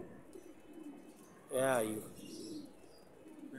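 A female pigeon gives one short, clear warbling coo near the middle, set against faint background noise and a brief human voice.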